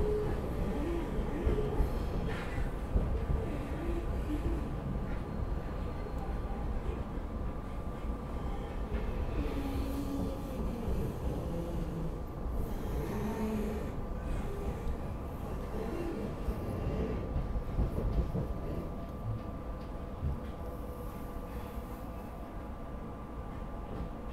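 A SEPTA West Trenton Line regional rail train rumbles steadily along the rails for a long stretch, with clattering wheels and a low continuous roar, no voices.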